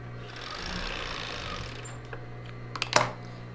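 A sewing machine stitches the gathered fabric of a topper cover with a low steady hum, ending in a few sharp mechanical clicks and a brief loud clack.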